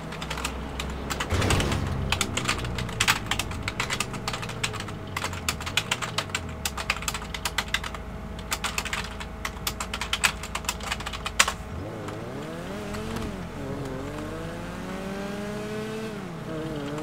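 Rapid clicking keystrokes on a computer keyboard patter for about ten seconds over the droning, revving engine of a racing video game car, then stop while the engine keeps whining and shifting pitch.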